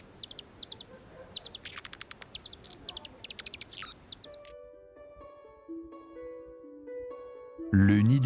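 Birds chirp in rapid, bright bursts of short repeated calls, then fade as a soft melodic tone sequence takes over, with a louder sound at the very end.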